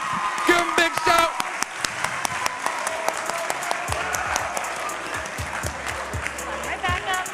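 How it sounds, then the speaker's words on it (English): An audience at a poetry slam cheers and applauds the contestants, with dense sustained clapping, whoops and shouts rising and falling, and a voice calling out over the crowd. "No, I don't want to hear that applause die down."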